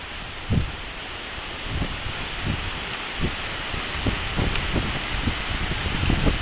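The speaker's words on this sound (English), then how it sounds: "It's raining everywhere except over this house." Steady rain falls outside a house during a sudden pop-up storm, a broad continuous hiss with scattered low thumps of heavier drops or gusts running through it, no voices.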